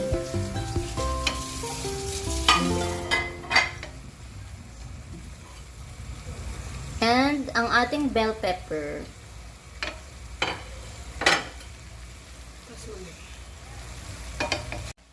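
Broccoli and other vegetables for chop suey sizzle and crackle in a hot pan while being stirred and tossed, with clanks of a utensil and a person speaking briefly.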